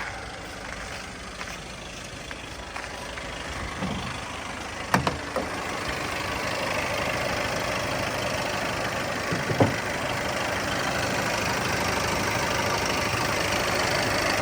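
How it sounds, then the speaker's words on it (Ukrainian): A 2016 Seat Leon's engine idles steadily and evenly, heard outside near the exhaust at a fairly low level, with a few brief knocks and clicks early on. "Зараз подивимося вихлопну і зовні як працює двигун."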